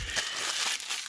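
Protective plastic film peels and crinkles off a MOOSOO robotic vacuum, a brief close crackling rustle.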